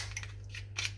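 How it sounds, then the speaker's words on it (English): A normal pair of scissors snips through a lobster tail shell in a home kitchen, giving a few quick, crisp, crunchy cuts close by. "with a normal pair of scissors, I will cut just the carcass out"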